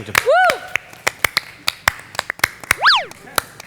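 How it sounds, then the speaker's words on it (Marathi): Thin, scattered claps from a small audience greet a writer at a Marathi comedy stage show, a dozen or so separate sharp claps rather than full applause, mixed with rising and falling whooping tones. "स्वागत करूया टाळ्यांच्या गजरात स्वागत करूया लेखक इरफान मुजुमदार यांचं"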